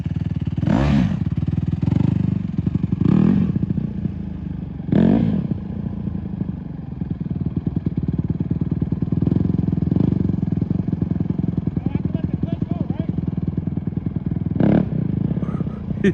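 Honda CRF150R dirt bike engine running steadily with a constant low buzzing drone, the throttle blipped a few times, close by, while people talk intermittently over it.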